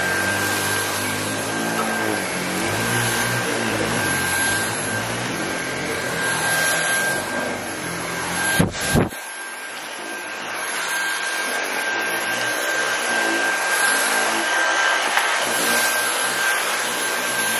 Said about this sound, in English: So I'm gonna vacuum this up now.